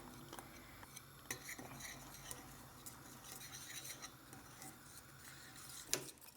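A spoon clinks and scrapes quietly in a bowl while an egg mixture is stirred into coconut milk for a custard pudding, faint irregular taps over low background hiss, with one sharper knock near the end.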